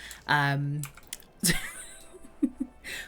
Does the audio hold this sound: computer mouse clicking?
yes